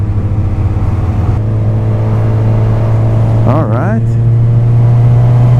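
A Kawasaki Z1000-R on its stock exhaust drones steadily at a loud, close idle, then revs up briefly in a rising, falling swell. Someone speaks over the engine.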